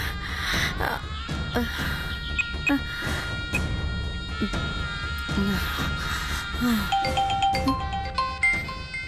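Mobile phone ringtone in a Tamil TV serial scene, a loud melodic chiming pattern of bright, repeating bell-like tones that play on alone for several seconds.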